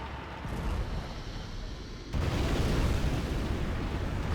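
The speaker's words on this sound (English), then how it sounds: "Oh, here's the nuke cannon now for ExCaL." A nuke cannon fires in a competitive real-time strategy video game match, a deep rumbling blast that swells abruptly partway through and holds heavy and loud to the end.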